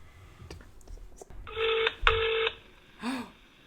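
Telephone dialing effect in a song interlude: two long steady dual-tone beeps in quick succession, loud and clear over a soft music bed, followed by a brief rising-falling tone.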